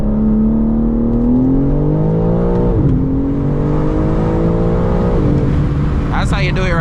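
A BMW M3 CS engine revs hard while held on the brakes for a launch, a loud steady drone that rises in pitch, dips, then climbs again, with a sharp whoosh near the end.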